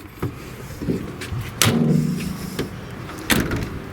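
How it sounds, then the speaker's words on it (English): Sliding side door of a 2009 Chevrolet Express 3500 conversion van with a 6.0-liter engine being opened, heard as a few close clunks and a rolling slide, then a latch knock near the end. "let's slide open this big door"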